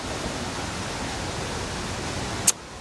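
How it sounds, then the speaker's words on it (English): Water gushes steadily out of a small pond, a continuous broadband rushing wash heard close by and alone, with one brief sharp click near the end. "there's a little pond behind me, and there's water just gushing out of it"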